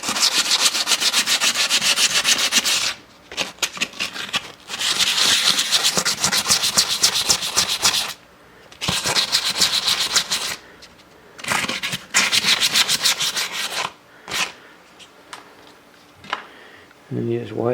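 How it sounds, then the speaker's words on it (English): A wheel rim being wet sanded by hand with 500 grit sandpaper and water: close, steady rasping strokes in long bursts separated by brief pauses. "I'm going to wet sand this. This is a 500 grit paper, and I'll be using water"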